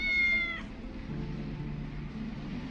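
A cat in the video game Tales of the Neon Sea gives one clear, fairly loud meow at the start, followed by a quiet ambient hum.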